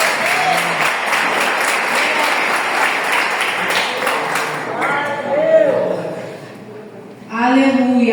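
A church congregation claps loudly for several seconds and then fades as a voice speaks over the dwindling applause, and a short burst of speech follows.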